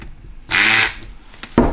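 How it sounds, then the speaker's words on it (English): A power driver set to its lowest setting runs in one short whirring burst while tightening bolts on the housing of a broken Ingersoll 1-inch impact wrench, followed by a couple of small clicks and knocks close by. "I start with my power driver at the lowest setting."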